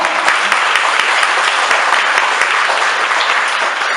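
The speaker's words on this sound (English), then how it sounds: "could you give a round of applause for the staff?" Sustained applause from an evening event audience cheering the staff, dense and even clapping with scattered sharp individual claps close by.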